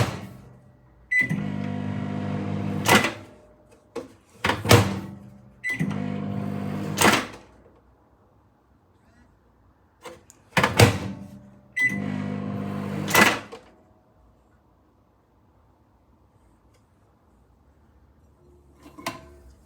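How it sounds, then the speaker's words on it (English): A microwave oven with a cheap phone inside hums in several short runs, each punctuated by sharp clicks and clunks, separated by quiet gaps. "Chuck it back in the microwave."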